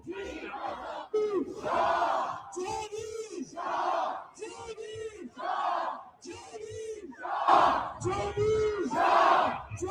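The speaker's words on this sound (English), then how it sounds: "Look at the massive crowd right now in London, London style." A huge protest crowd in London chants in unison, rhythmic shouted phrases repeating in bursts with short pauses, loud and massed across the street.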